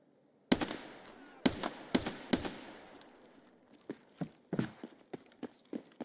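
Sharp gunshots in the Escape from Tarkov video game, a cluster of loud single reports early on followed by fainter, spaced shots trailing off, with no talk over them.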